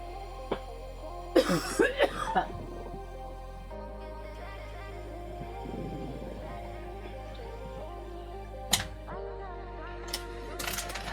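A streamer coughs in a short cluster of harsh, close coughs near the start, then a single sharp cough later, with quiet room tone and faint background hum in between.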